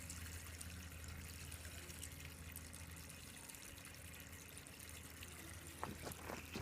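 Water drains out of a ground drainage outlet in a faint, continuous trickle and dribble, with a few brief splashy bursts near the end.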